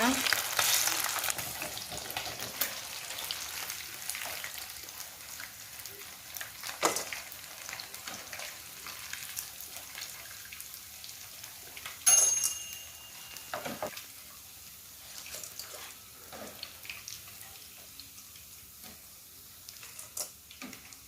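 Crisp-fried dolly fish pieces cook in hot oil with a faint, steady sizzle and bubbling, broken by scattered light clicks and scrapes from a utensil, heard quietly with no talking.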